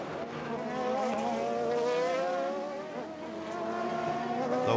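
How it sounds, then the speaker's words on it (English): A Judd-engined prototype race car wails past at Le Mans, its high, rising engine note loud and sustained for several seconds with a slight dip and swell as it passes. "The wailing Judd engine in the blue, red and white striped speedy car"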